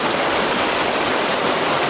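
Creek water flowing over rocks, a steady, full rushing hiss heard up close and continuously, with no voices.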